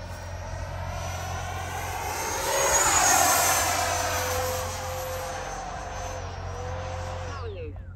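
A Freewing F-22 90mm RC jet makes a high-speed pass: a steady ducted-fan whine swells to a loud peak as it sweeps close by, with a clear Doppler drop in pitch, then fades into the distance.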